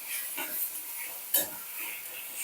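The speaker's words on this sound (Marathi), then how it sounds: "आता हे व्यवस्थित मिक्स करून घ्यायचं" A spicy, rustic brinjal thecha with green chilli, peanuts, garlic and chopped coriander is mixed by hand, giving soft, quiet scraping stirs and one sharper clink partway through.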